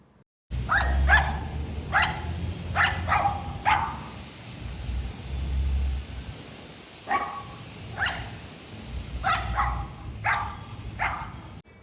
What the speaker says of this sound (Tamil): நான் ஒவ்வொரு வாரமும் துணி காய போடும்போது இந்த நாய் வந்து என்னை பார்த்து குலைக்கும்.